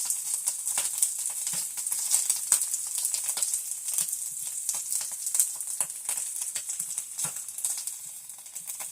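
Potatoes frying in a pan, a soft steady sizzle broken by quick crackles and pops spattering at an irregular pace, fairly quiet and close with no one speaking.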